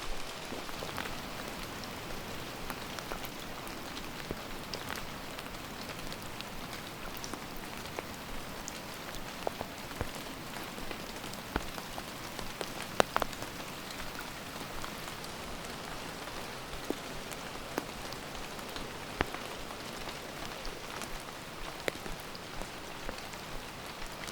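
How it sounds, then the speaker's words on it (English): Steady rain patters down beside a river at a van campsite, a dense, even hiss with scattered close drops ticking sharply throughout, no voices. "Still is raining out this morning"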